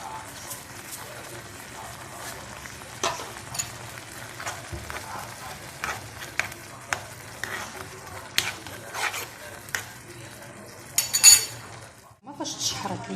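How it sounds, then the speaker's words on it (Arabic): Tomato sauce sizzles softly in a pan while a spoon scrapes and clinks against the metal, with scattered stirring knocks over a steady low fry and a voice speaking briefly near the end. "نخلي هاد لاصوص كتشحر مزيان"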